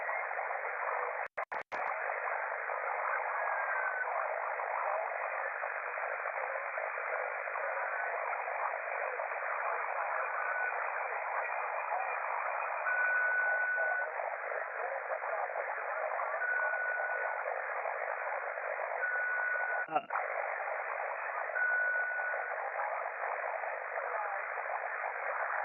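Steady band-limited hiss of the noise floor on an amateur radio receiver at Kents Hill runs unbroken for the whole stretch, with a couple of sharp clicks early on and another near the end.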